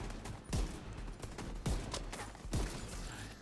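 Slow, heavy shots from a weapon in The Division 2, three evenly spaced booming reports about a second apart over constant loud game background noise.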